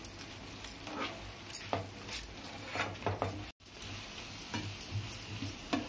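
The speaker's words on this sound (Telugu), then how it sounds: "ఇలా అన్ని బాల్స్ కలిసేలా కలిపేసుకోవాలి" Vegetable Manchurian balls are stirred into a sauce in a pan, giving faint, irregular scraping and soft tapping of a spoon with a light sizzle in the background.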